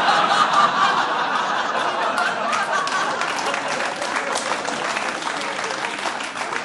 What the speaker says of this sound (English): What I love most is how people clap that.